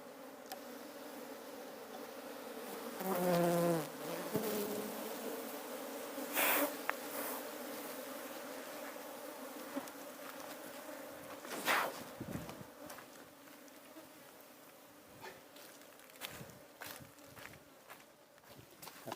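Honeybees from a colony just over a month old, buzzing faintly and continuously, with a few louder passes as single bees fly close, plus light handling noises.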